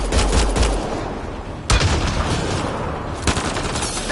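Sustained gunfire in Mass Effect Andromeda: rapid bursts and sharp cracks repeat throughout, loud and close, with a heavier blast near the middle and another late on.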